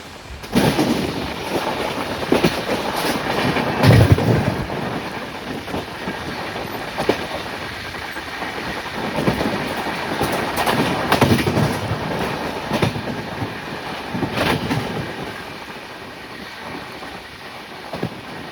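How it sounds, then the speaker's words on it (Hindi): A passenger train heading toward Prayagraj runs fast along the rail track, heard from inside with a loud continuous rumble, rhythmic clickety-clack of wheels over rail joints, and wind noise throughout, with no talk. "जिस हिसाब से ट्रैक की साउंडिंग है और ये जो नया ट्रैक दिखने लगा है"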